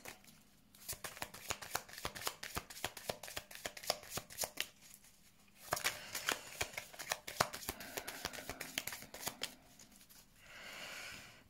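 A deck of tarot cards being shuffled for a reading, with dense rapid riffling flutters in two long bursts separated by a brief pause, close and moderately loud, and no speech.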